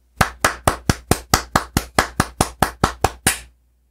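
Applause sound effect in an audiobook, heard as about thirteen sharp, evenly spaced claps in a dry, close steady rhythm, more like a single pair of hands than a crowd, then stopping.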